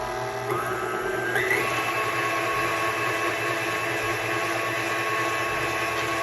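An electric mixer whirs steadily in a mixing bowl of powdered sugar, a continuous close motor hum with a brief pitch shift early on and no talking.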